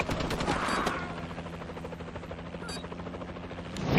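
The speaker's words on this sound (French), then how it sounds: "Warbird allié dans les airs." An allied Warbird aircraft in the shooter game Call of Duty: Advanced Warfare drones overhead with a steady, pulsing rotor-like thrum, mixed with bursts of rapid gunfire during a multiplayer match.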